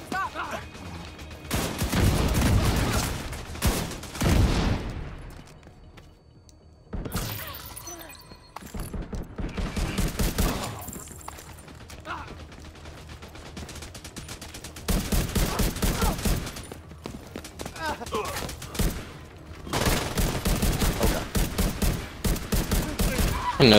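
Submachine gun fire in the shooter game The Division 2 comes in loud, rapid bursts: several volleys of automatic fire with short pauses between them, punctuated by crashes and impacts, over a background of game sounds.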